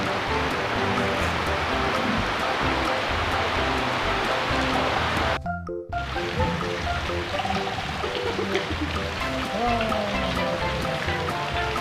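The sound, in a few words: rain falling while fishing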